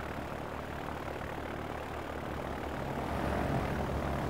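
A propeller aeroplane engine droning steadily at an airport, a continuous broadband roar that grows slightly louder toward the end, with no talking.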